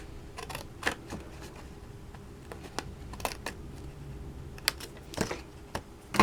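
Scissors snipping through paper: a series of crisp, irregular snips and rustles, close by, with short pauses between cuts.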